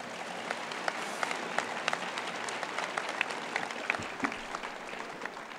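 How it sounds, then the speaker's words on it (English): A crowd applauds steadily at a high school Veterans Day ceremony, many hands clapping together without pause, with no voices over it. "let's give a round of applause"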